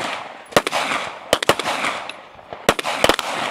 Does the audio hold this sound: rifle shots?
yes